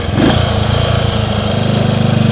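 A Triumph Tiger Cub motorcycle engine runs steadily while being ridden, its loud, close, even low thrum pulsing continuously without a pause.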